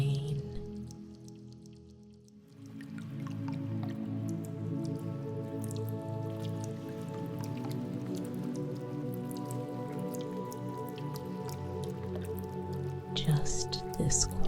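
Rain drips and patters steadily on nearby surfaces, a soft continuous texture of droplets that fades in after a quiet start, with a calm voice speaking over it.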